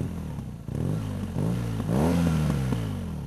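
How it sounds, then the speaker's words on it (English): A BMW R nineT motorcycle engine revs up repeatedly nearby, its throaty exhaust note rising and falling in several loud bursts. "Let's get a sound of this exhaust."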